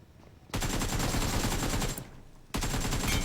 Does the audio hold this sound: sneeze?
no